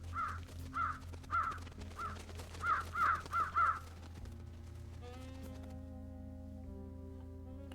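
Crows caw in the video game Trüberbrook, a run of about seven hoarse calls in quick clusters over a steady musical backdrop, then fading as soft melodic tones take over.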